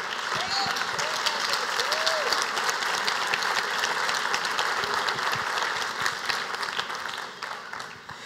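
A church congregation applauds during a sermon, dense sustained clapping filling the room before tapering off at the end, with a voice speaking over the applause.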